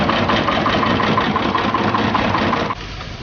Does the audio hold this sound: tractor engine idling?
yes